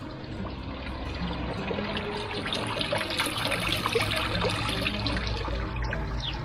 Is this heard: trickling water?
yes